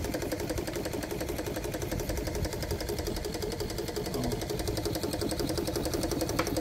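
A steam engine running on steam from a 20-inch boiler, with a steady, fast mechanical chugging and clatter that continues evenly and fairly loud throughout, with no pauses.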